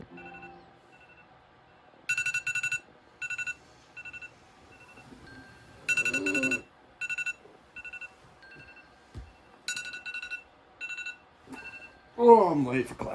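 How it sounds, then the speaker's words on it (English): An alarm clock rings in short bursts of repeated beeping, with irregular gaps between the bursts, and someone speaks faintly near the end. "I just use my alarm clock"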